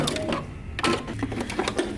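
Close, steady whirring of a sewing machine back stitching along a dress seam right beside zipper teeth, with a few sharp mechanical ticks over a short run.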